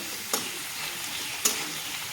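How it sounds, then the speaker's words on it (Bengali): Potatoes frying in a pan give a soft, steady sizzle, broken by two sharp clinks of a spoon stirring against the pan. "আলুটাকে আমার ভাজা হয়ে গেছে"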